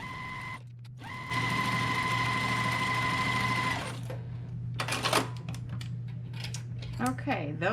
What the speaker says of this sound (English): we're going to stitch on both sides of that line.